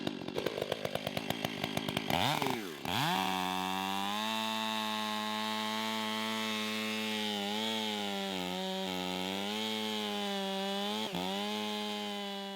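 A chainsaw cutting into a huge tree stump, loud and close: a few sputtering pulls, then a steady high whine that sags and recovers as the chain bites into the wood, running continuously with no talk.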